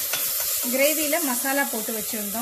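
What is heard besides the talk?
sautéing ginger garlic paste with onions in a pan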